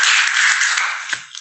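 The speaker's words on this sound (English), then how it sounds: "That was the first long clap." Long, steady clapping from a small group at a sobriety meeting celebrating 57 days sober, dense and continuous before fading out at the end with a few last claps.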